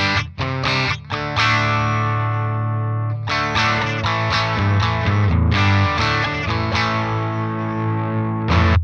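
An electric guitar plays through a DevTech Audio Skylight overdrive pedal, giving a clean, full overdriven tone; several strummed chords and picked notes ring out loud and sustained with no talk.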